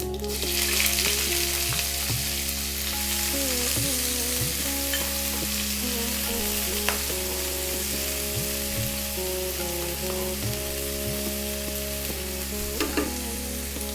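Chopped onion sizzles in hot oil with black mustard seeds and fennel for an Indian lamb bhuna, a steady close frying hiss with occasional stirring scrapes and small pops throughout, with no talking.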